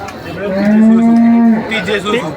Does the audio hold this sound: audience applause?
no